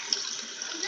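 Tap water runs over slime as it is rinsed, a soft, steady hiss of flowing water close by, without a break for under a second.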